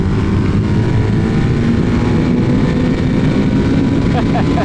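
A KTM Duke 390 motorcycle fitted with an aftermarket exhaust accelerates, its loud, steady low engine drone close to the microphone and mixed with heavy wind rush throughout.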